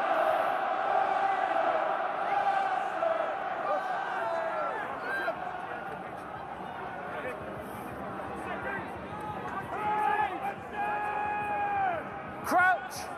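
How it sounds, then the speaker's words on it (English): A rugby crowd chanting at a Heineken Cup match between Munster and Racing Metro, a broad sustained roar of voices with rising and falling chant tones, heard under continuous commentator talk. "you can hear the chanting since"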